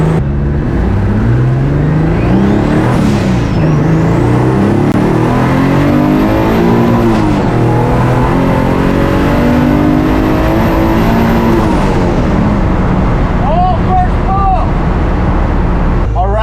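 A turbocharged car engine with a blown head gasket revs hard on a street run at about 6 to 8 PSI of boost, its loud droning note rising and falling through several pulls before tailing off.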